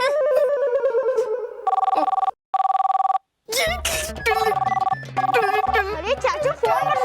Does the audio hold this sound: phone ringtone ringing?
yes